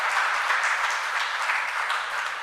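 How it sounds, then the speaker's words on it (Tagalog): A church congregation applauds in a steady, dense wash of clapping that holds at an even level throughout, with no voices rising above it. "Palakpak muli sa Panginoon."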